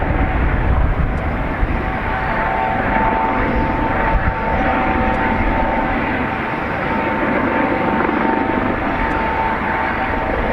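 Steady roar of a JetBlue airliner's jet engines as it lands at Dublin Airport, a loud continuous rumbling wash that holds evenly throughout with no voices.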